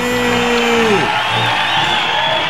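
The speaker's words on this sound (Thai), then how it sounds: "ขอเสียงปรบมือต้อนรับพิธีกรของเราในค่ำคืนนี" A dense, loud crowd roars with cheers, whoops and applause to welcome the hosts of a Thai awards-night ceremony, AXE Awards 2012, right after a held musical tone slides away.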